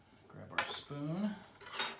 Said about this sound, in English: Grab our spoon.